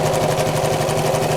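A sewing machine running a triple straight stitch, its needle driving steadily back and forth in a fast, even mechanical hum and chatter, loud and close with no voices.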